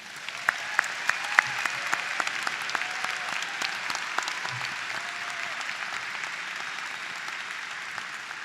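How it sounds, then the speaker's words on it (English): Audience at a college commencement ceremony applauds steadily, dense clapping sustained throughout with no talk over it. "Let's give Kira one more round of applause."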